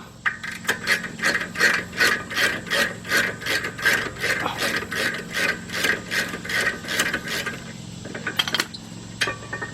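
Ratchet wrench clicking steadily as it backs out the rear brake caliper bracket bolts on a 2001 Jeep Grand Cherokee Laredo, close up, in rapid rhythmic bursts that briefly pause near the end before a few final clicks.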